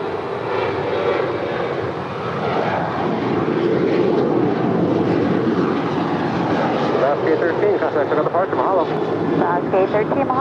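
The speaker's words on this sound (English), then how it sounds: "Our next departure is Alaska Airlines Flight 813 heading to Kahului. It's a 737-800." Alaska Airlines Boeing 737-800 jet departing, a steady loud engine roar that swells and holds throughout, with voices talking over it.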